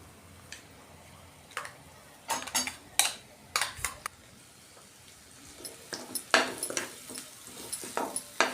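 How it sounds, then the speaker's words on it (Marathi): Ground masala stirred into sautéed onions in a pan for a capsicum sabzi, with a string of scraping and clinking spoon strokes against the pan, spaced irregularly and fairly close, over a faint background. "आता यामध्ये आपण हा वाटलेला मसाला घालून घेऊया"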